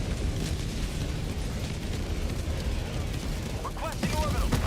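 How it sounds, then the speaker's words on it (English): Dense, continuous rumbling explosions from an orbital walking barrage in a shooter video game, heavy booms blending into a constant roar with a voice briefly audible over it near the end. "Orbital inbound! Walking barrage, and I'm getting out of here."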